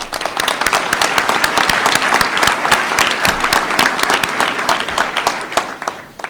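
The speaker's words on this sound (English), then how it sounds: "you deserve a round of applause" An audience of parents and caretakers at a Virginia bill-signing event breaks into loud, sustained applause, a dense wash of many hands clapping close by with no talking over it.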